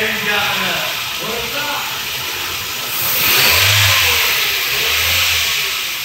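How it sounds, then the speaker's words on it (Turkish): After a workshop repair, a car engine turns over, catches and revs, rising in a swell midway and dropping back to a lower note, with a loud, rough hiss throughout and speech mixed into the noise. "Tek marş yapacağız, ilk marş yapacağız."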